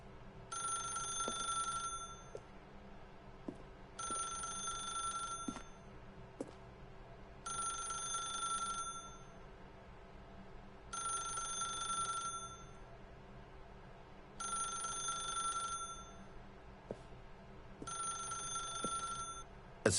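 A telephone ringing in bursts, about six rings of electronic trilling tone separated by short pauses, steady and fairly close over low background hum, with no voices.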